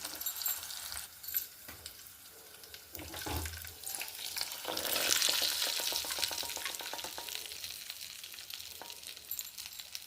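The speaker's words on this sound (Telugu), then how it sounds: "మొత్తం కలిసేలా ఒకసారి మిక్స్ చేసుకున్నాము" Tamarind rice (pulihora) being stirred together with a hot tempering that includes asafoetida, giving soft scraping and mixing noises with a brief hiss of sizzling partway through, close and fairly quiet.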